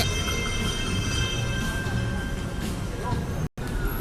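A constant loud rumbling roar with a high whine of a BTS skytrain passing on the elevated track overhead near Pathumwan, Bangkok, steady throughout with one brief dropout near the end.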